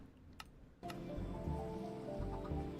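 Steady rain hisses in a modded Minecraft world, soft patter at first, then a louder, denser downpour with low rumbling after a sharp onset, continuing without talk.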